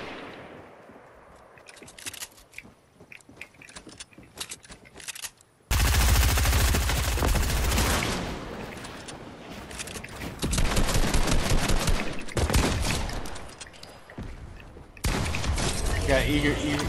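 Fortnite gunfire crackles in loud, rapid bursts, with heavy volleys broken by short pauses and quieter stretches in between.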